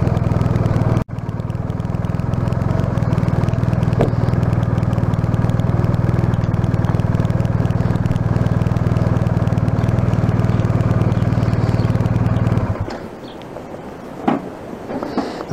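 A loud motorcycle engine idles steadily for about twelve seconds after a sharp click, then cuts off, leaving quieter background noise and a couple of faint knocks.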